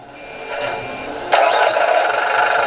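A radio-controlled model dragline's small engine catches partway through and settles into a steady, buzzing idle close by, no voices over it.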